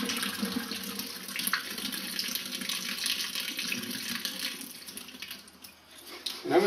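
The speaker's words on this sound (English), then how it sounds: "So we're going to rinse it off." Wheat grain is rinsed under a running kitchen tap, a steady close splash and gush of water into a sink that continues throughout, with no talking.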